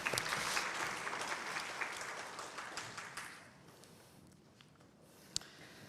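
An academic webinar audience claps steadily for several seconds after a talk, then the applause thins out and fades to a few scattered claps.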